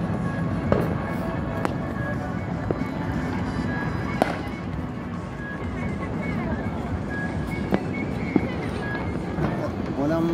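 Fireworks crackle and pop continuously at New Year, a dense barrage of bangs near and far with sharper reports scattered throughout, while people talk over the noise.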